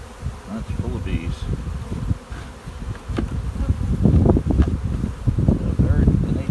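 A loud, dense buzz of honey bees filling an opened split hive, continuous and close with faint rustling and wind alongside.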